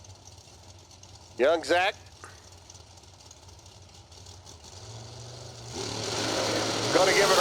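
Drag racing cars, one with a 472 engine, in a high-stakes bracket race: a low engine rumble swells into loud, roaring acceleration toward the end, under an excited announcer's commentary.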